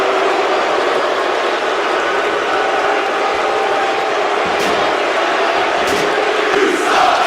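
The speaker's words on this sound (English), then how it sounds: "Some of the crowd trying to yell at Max Payne, but the crowd is slow." A wrestling crowd at an arena show yells in a dense, continuous roar that fills the space, with a few sharper shouts and thuds near the end.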